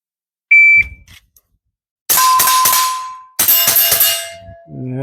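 At a shooting range, a shot timer gives a short high beep, and two rapid strings of sharp, loud gunshots from a Ruger Mark IV Lite pistol follow, each string a quick rhythmic burst with a ringing tail.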